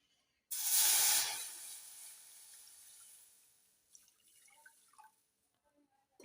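A sudden loud steamy hiss as water hits roasting semolina in a hot pan, fading over a few seconds into soft bubbling and faint drips.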